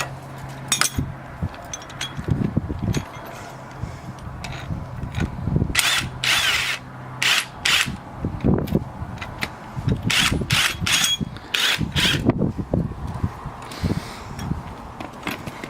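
A power tool whirs in loud, repeated short bursts while tightening a pair of coil spring compressors on a car strut during a top mount bearing change, with metallic clinks between the bursts and no talking.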